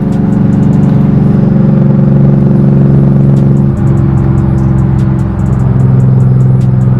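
BMW M340i engine drones steadily from inside the car while driving, a loud low turbocharged hum holding level throughout with brief dips near the middle and end.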